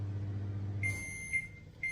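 Cooking appliance beeping while an Indian curry cooks: a long electronic tone followed by two shorter beeps, clear over a low appliance hum that fades out.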